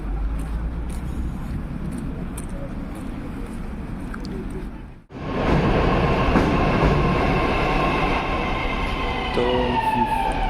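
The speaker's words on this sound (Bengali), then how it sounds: "মেট্রো চলে এসছে, এখন উঠবো এখান থেকে" Metro train pulling into a station platform, a steady loud rumble and hiss that cuts off briefly then swells back with high whining tones as the train arrives, with no voices over it.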